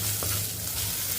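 Onion and green chilli sauté in a hot pan, a steady, close sizzle that holds for just over a second.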